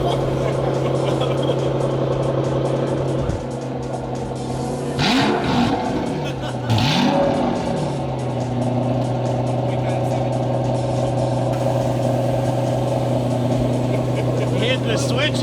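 A manual Sentry car revs twice in quick succession, each engine note rising and then falling, over a steady idle rumble with voices in the background.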